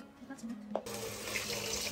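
Tap water runs into a soup pot for a homemade Kazakh noodle soup with browned meat, a steady close rushing stream that starts abruptly partway through and continues to the end.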